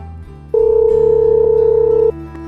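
A steady electronic ringback tone of an outgoing phone call sounds once for about a second and a half, loud and close, with no voice answering.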